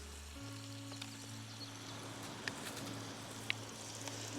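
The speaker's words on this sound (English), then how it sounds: "A sizzling steak in the sea and some birds." Soft, steady crackling sizzle of steak frying on a beach in Devon, with a low hum underneath and a couple of faint bird chirps.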